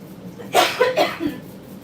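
A few close, sharp coughs in quick succession, followed by a softer throat-clearing sound, with no talking.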